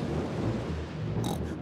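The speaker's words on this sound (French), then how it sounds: "C'était le tonnerre, Peppa." Cartoon thunder from Peppa Pig, a deep, loud, sustained rumble that rolls on without a break, followed by a brief brighter crack near the end.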